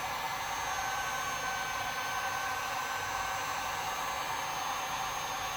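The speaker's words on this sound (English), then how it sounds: "with the heat gun, it actually makes very quick work" A heat gun blows hot air in a steady, even hiss that stays constant and fairly close the whole time, with no voices.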